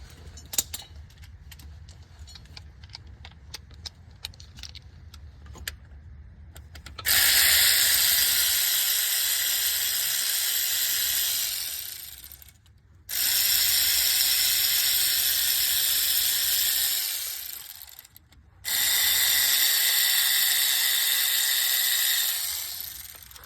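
Three long, loud hissing bursts from a power ratchet or air tool loosening the water pump bolts on a 2004 Ford F150 Triton, with an extension on the socket, following quieter scattered clicks and handling noise.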